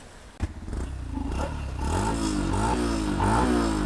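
A Yamaha FZ-S V4 motorcycle engine starts with a click and settles into a close, steady rumble, then the revs rise and fall in waves toward the end.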